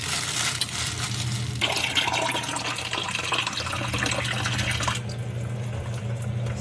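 Broth being poured into a cooking pot that holds garlic, onion, tomato and ginger, a steady close splashing gush of liquid that shifts in tone partway through as the pot fills.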